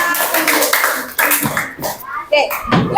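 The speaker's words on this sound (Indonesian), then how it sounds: "beri tepuk tangan untuk kita semuanya." A group of children and adults claps together in a classroom teaching session, with uneven bursts of hand claps mixed with voices and chatter throughout.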